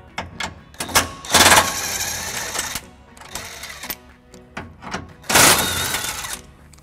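Bolts on the spare tire bracket of a 2015-2022 GMC Canyon are loosened with a 13mm socket, giving several short bursts of mechanical whirring and ratcheting clatter with brief pauses between them, close up and fairly loud.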